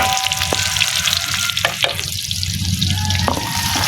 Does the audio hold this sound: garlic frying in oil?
yes